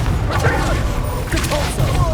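Confringo fire spell explosions in Hogwarts Legacy, heavy booming blasts mixed with dense combat noise, with a voice speaking over the action throughout.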